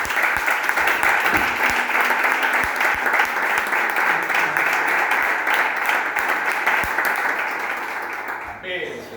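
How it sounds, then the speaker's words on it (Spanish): Church congregation applauding in sustained, dense clapping that holds steady and close for most of the stretch, then thins and fades near the end. "Dale un aplauso al Rey de Gloria."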